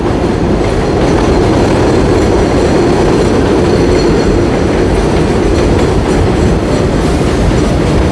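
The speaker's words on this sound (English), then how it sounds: "The train." A train in Astoria, New York City rolls past loud and close, a dense, continuous rumble with steady rail clatter and some wheel squeal, heard on its own for several seconds.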